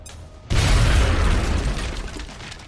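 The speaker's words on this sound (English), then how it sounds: "throw a grenade." A grenade explosion in XCOM: Enemy Unknown, a sudden loud close boom with a crackling, rumbling tail that fades over about two seconds, no talk.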